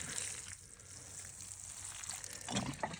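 Water pours steadily from above onto soil in an outdoor herb planter, a continuous rushing splash that swells slightly near the end.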